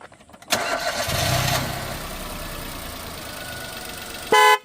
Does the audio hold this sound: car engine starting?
yes